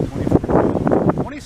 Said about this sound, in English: because it's very windy today